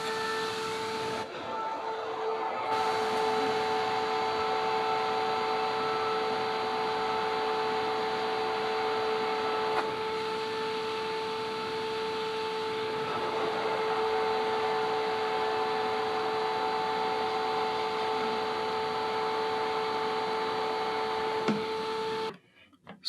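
The power supply cooling fan of an Elegoo Neptune 2S 3D printer, in a case cut open for airflow, runs with a steady whirring hum and a faint turbulent hiss, continuous and close, with brief light knocks near the start and end.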